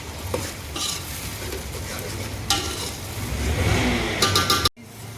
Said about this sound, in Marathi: आपण आता टोमॅटो टाकून घेऊ टोमॅटो टाकायचं आहे आपल्याला